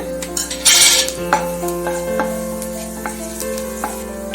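Whole spices (cardamom, star anise, cinnamon, cloves, fennel) sizzle and crackle in hot oil for mushroom biryani, with a few stirring scrapes; a louder burst of popping near the start, then a steady sizzle, no voices.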